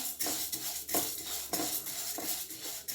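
Drained mung beans being dry-roasted in a pan over a low flame, with steady scraping and stirring clinks of a utensil against the metal pan repeating every half second or so, close and fairly loud, no talking.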